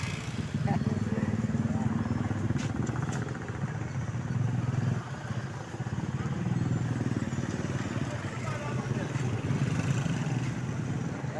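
A motorcycle engine runs steadily close by in Candaba, Pampanga, with a low droning rumble and slight fluctuations, continuous throughout with no break.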